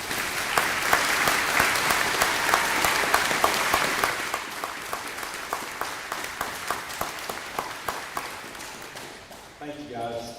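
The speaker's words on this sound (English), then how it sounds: "would you please join me in giving these folks a round of applause for their hard work" An audience at a Clinch River Community School graduation ceremony applauds school staff, with dense, sustained clapping that thins into scattered individual claps near the end as a voice returns.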